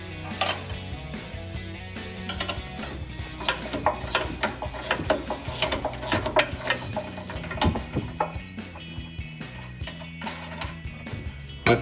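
A ratchet clicks steadily and rapidly, up close, while loosening the upper control arm nut on a 2021-2025 Ford F-150, with metallic tool rattles mixed in.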